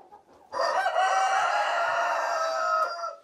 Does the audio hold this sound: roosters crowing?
yes